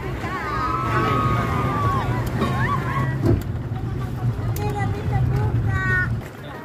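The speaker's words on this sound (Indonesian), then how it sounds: "kita sudah selesai tadi keliling-keliling dengan speedboat, seru-seruan" A speedboat rides over choppy water on Lake Toba, with a constant low engine drone and wind, splashing over the waves, and people chattering and calling out over the noise.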